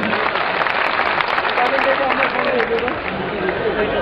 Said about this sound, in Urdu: ایک بار زوردار تالیوں سے میری حوصلہ افزائی فرما دیں